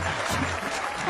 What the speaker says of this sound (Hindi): ये देख क्या रहे हो? तालियां बजाओ।